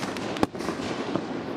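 A firework shot launched from a raft on a lake gives one sharp bang over steady outdoor background noise, followed by a smaller pop.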